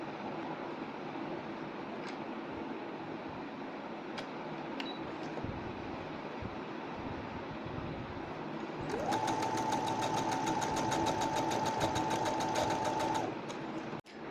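A low room hum gives way to a sewing machine stitching blouse fabric, a fast, even, whirring run lasting about four seconds before it stops abruptly.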